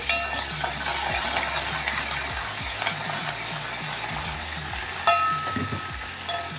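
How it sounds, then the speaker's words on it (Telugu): Garlic cloves, dried red chillies and curry leaves fry in hot oil, giving a steady close sizzle with occasional scraping stirs and a sharp clink of utensil against the pan, and no voices. "వెల్లుల్లి రెబ్బలు వేసిన తర్వాత ఎండుమిర్చి, తర్వాత కరివేపాకు ఇవన్నీ వేగాలి ఒకసారి"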